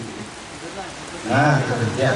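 Steady rain falls on surfaces at an outdoor mosque groundbreaking gathering, a soft continuous patter under people talking nearby.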